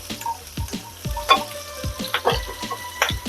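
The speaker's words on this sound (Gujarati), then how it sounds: "સાંતળવા દઈશું." Ginger-chili paste sautéing in a hot pan during okra cooking, a close sizzle with scattered crackles and pops and light stirring clicks, no voices.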